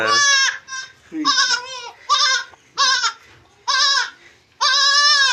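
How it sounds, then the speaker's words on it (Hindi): Goat bleating loudly and close by, a run of about seven separate wavering bleats with short pauses between them and no voices over them. "ये है हमारी बकरी जी माशाल्लाह।"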